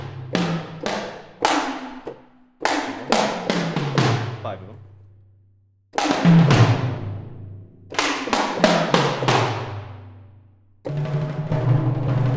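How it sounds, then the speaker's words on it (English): Roto toms from the CinePerc PRO sample library struck in quick descending runs across five drums, pitched thumps falling in tone with ringing decays, separated by pauses; a voice speaks briefly partway through. "All right, next one is the Roto Toms. Those sound like this."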